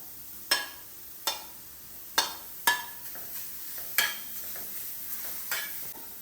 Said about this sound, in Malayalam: ഇനി അടുത്തതാണ് കേട്ടോ, ബീട്രൂട്ട് റോസ്റ്റായിട്ട് എടുക്കുകയാണ്